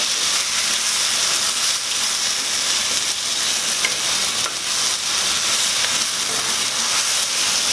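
Mexican rice sizzles and fries loudly in a hot pan with tomato sauce, a steady dense hiss of steam and bubbling that continues unbroken and close throughout.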